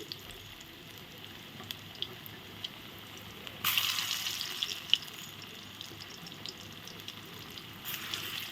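Banana flower koftas frying in oil give a low, steady bubbling sizzle that jumps louder as more are added, with a few sharp crackles and utensil taps.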